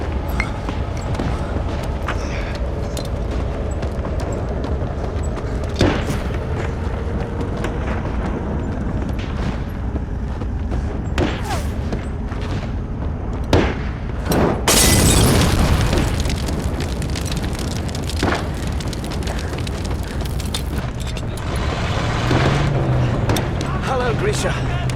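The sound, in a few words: explosion in war movie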